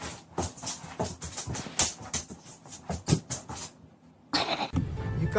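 A dog makes a run of sharp, close barks and whimpering yelps in quick bursts, broken by a short pause before a louder noisy burst.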